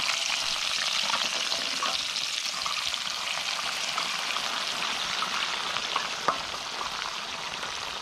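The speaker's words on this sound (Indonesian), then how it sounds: "sekarang kita akan menggoreng jengkol" Oil sizzles and crackles steadily as jengkol beans fry in a pan, a dense spattering hiss with occasional louder pops, no voices.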